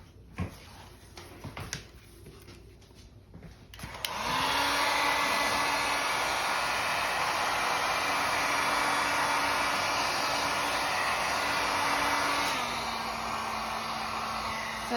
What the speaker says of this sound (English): we're gonna heat gun this